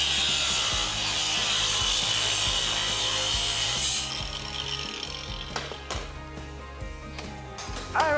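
An angle grinder cuts through a bicycle security lock, a loud sustained abrasive grinding whine for about four seconds that then drops to scattered scraping and sharp metallic bursts near the end.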